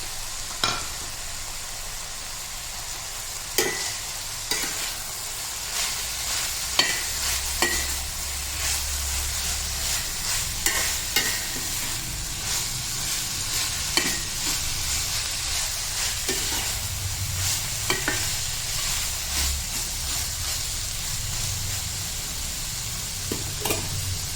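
Shredded cabbage stir-fried in a pan for bread upma: a continuous loud sizzle broken by repeated spatula taps and scrapes against the pan.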